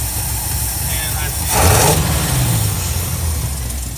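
A customised car's engine runs near and steady, then swells briefly and sags as it bogs down, apparently starved of fuel, with the idle continuing afterward.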